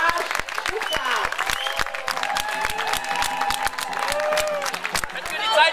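At a dragon boat cup final, a crowd gives applause and cheers, a dense clapping spread wide across the scene, running under an announcer's voice speaking over a loudspeaker.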